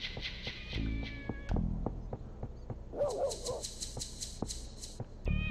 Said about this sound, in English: It must be that kitten. She's close.